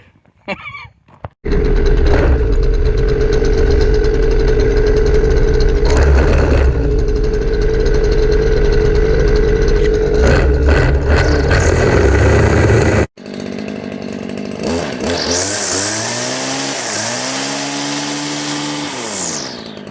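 Gas-powered string trimmer (weed eater) starts up and runs at a loud, steady whine with several revving swells, briefly cuts out, then resumes with rising and falling pitch near the end.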